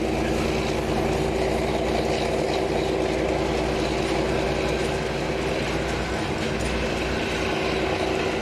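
A V43 electric locomotive hauls a passenger train past near Debrecen, Hungary, in winter snow, giving a steady loud rumble and rolling wheel noise with a constant electrical hum and faint clickety-clack throughout.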